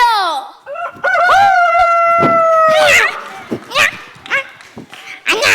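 A loud, drawn-out rooster crow rings out up close, rising then holding steady for about two seconds, followed by short vocal bursts; it sounds like a person imitating a rooster during a church sermon skit about Noah's ark.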